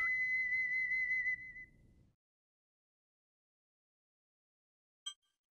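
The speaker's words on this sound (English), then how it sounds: "Now we can blow the whistle. Or the ocarina, whatever." Ocarina melody from the Link's Awakening video game, a clear pure high tone lasting about two seconds over low background hum, then silence and a short chime.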